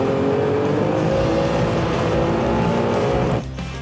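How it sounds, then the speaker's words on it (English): A Bugatti Veyron driving in a race, a loud continuous engine roar and tyre noise held steady close by, then dropping off sharply near the end. "I honestly believe I can hear the car."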